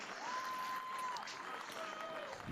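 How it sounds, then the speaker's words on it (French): Spectators at an Albi versus Toulouse rugby match in the Coupe Lord Derby applaud in a steady, distant wash of clapping, with a thin whistle-like tone drifting above it. "Sous les applaudissements des spectateurs."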